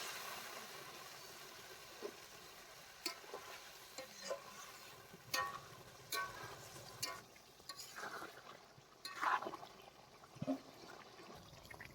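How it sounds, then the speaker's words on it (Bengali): Water is added to a pan of chicken being cooked down in spices for a Bengali-style chicken kosha curry, giving a soft, steady sizzle and bubbling with light stirring clinks and scrapes, close and moderately quiet, with no talk. "এখন পরিমাণ মতো জল দিয়ে দেবো।"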